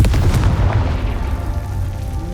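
A Confringo fire spell explodes in Hogwarts Legacy: a loud, close, deep boom that rolls off into a rumbling tail.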